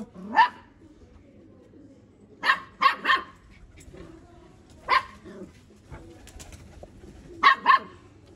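Pigeons from an old breeding pair in a loft give short intermittent calls, mixed with several sharp bark-like bursts from a dog nearby, spaced irregularly over a quiet background.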